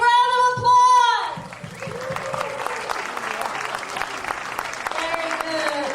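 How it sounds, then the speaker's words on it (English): A live radio show audience breaks into applause and cheering, with a loud shout opening it before dense clapping takes over and carries on steadily, joined by some shouting. "give yourselves a big round of applause"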